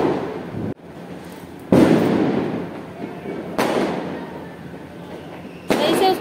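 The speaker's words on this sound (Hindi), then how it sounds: "अच्छा बम फोड़ रही है।" Diwali firecrackers burst outdoors in sharp, loud bangs, three or four spaced a couple of seconds apart, each trailing into a crackling, rumbling decay amid festive background noise.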